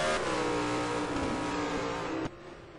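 A race car at Anderstorp in a 2008 ETC Black Cup touring car race screams down the straight, its engine loud and sustained at high revs before the note drops abruptly near the end.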